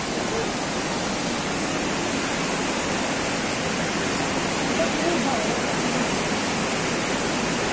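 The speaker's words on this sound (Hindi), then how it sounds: "इसे सुमन नाला कहते हैं और इंतहाई तेज़ आवाज़ है इसकी" Suman Nala, a mountain stream on the road to Gilgit near Nanga Parbat, roars loudly and steadily with a dense, unbroken rush of water that fills the whole clip.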